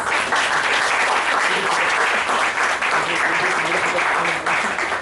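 A round of applause from an audience at an educational session on controlling fear, as a speaker is called to the stage; dense, steady clapping fills the whole stretch, loud and continuous.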